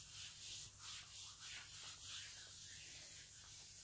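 Hands rub and knead the skin of the leg during a relaxing self-massage, producing soft, steady brushing and friction strokes in a gentle repeating rhythm, close and quiet.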